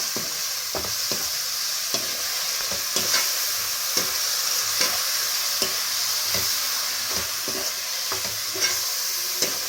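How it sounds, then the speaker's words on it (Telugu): Curd and spices for prawn biryani are stirred in a hot pan. Soft, irregular scraping strokes of the spoon sit over a steady background sizzle, with no talking. "ఇవన్నీ కూడా మిక్స్ చేస్తున్నాను"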